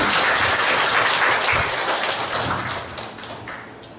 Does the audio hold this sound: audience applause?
yes